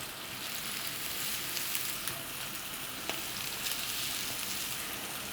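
Köfte meatballs frying in a hot pan give a steady, close, even sizzle with faint crackles and pops throughout, no voices over it.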